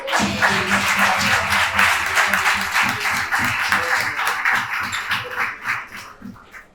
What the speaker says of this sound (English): As I wanted to give a round of applause for Suli for hosting this.